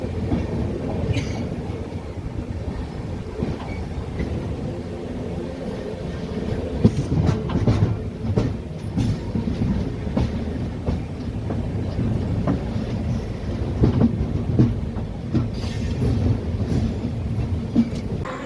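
Simhapuri superfast express train (12710) rolling into Vijayawada junction, a steady loud rumble of wheels and carriages with faint rail clatter throughout, no talking.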